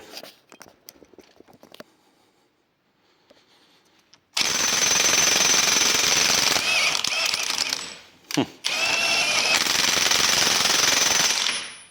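A loud Ryobi cordless impact wrench rattles in a sustained mechanical burst tightening a bolt to 300 Nm, stops briefly with a sharp knock, then hammers on again for several seconds after a quiet start.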